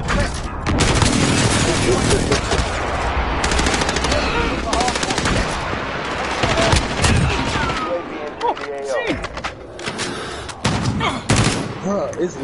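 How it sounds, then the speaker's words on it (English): Rapid machine-gun fire in a Call of Duty match, loud sustained bursts of automatic shots with brief pauses, some voice chatter mixed underneath. "I'm laying down some cover fire"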